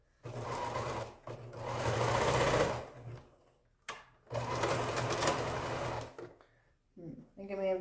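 A sewing machine stitches quilt pieces in two steady bursts of loud, fast whirring, separated by a pause, followed by a faint voice near the end.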